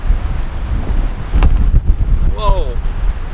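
A strong wind gust buffets a tent campsite in a rain storm, a loud continuous rush with a sharp thump partway through and a brief voice over the noise.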